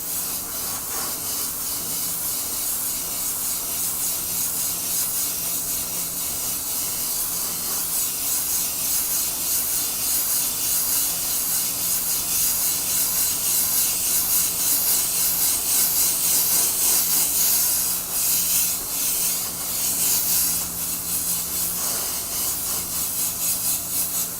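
Spray can laying a black coat of paint onto ammo box lids, a steady close hiss of aerosol spray running almost continuously with slight pulses in intensity.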